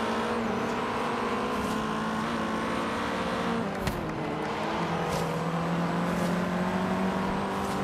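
Car racing in Forza Horizon 3, heard from an outside camera view: a loud, continuous engine drone with shifting pitch and a brief dip partway through, like a gear change, with no voices.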